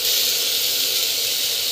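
Green gram and cluster beans sautéing with chilli powder in a pan, giving a steady, close broadband sizzle that holds at an even level throughout with no talking.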